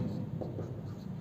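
Marker or chalk writing on a board during a physics class comes through as a short run of soft scratchy strokes and taps, fairly faint over a low room hum.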